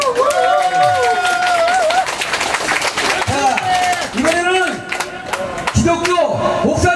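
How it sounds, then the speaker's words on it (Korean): Applause from an outdoor crowd at a Gaecheonjeol (National Foundation Day) ceremony in Tapgol Park, Seoul, dense clapping running throughout beneath loud music and an amplified voice. "뜨거운 박수 부탁드립니다"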